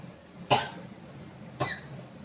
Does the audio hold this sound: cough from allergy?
yes